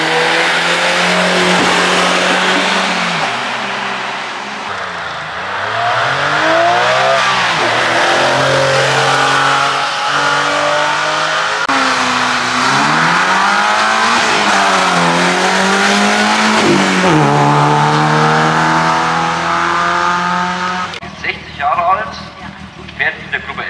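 A Porsche GT3 RS race car runs a hill climb at the Glasbach Berg-Slalom in Bad Liebenstein. Its engine is loud and close, revving up and down through repeated gear changes as it climbs, then cuts off near the end.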